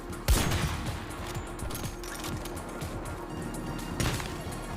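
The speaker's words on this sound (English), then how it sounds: "Somebody's throwing grenades at me now." Shooter video game combat with loud grenade blasts at the start and near the end, and scattered gunfire popping in between over a steady rumbling background.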